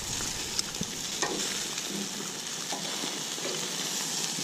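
Chicken wings browning on a Camp Chef griddle give a steady, close sizzle with occasional small pops and spatula scrapes, no voices.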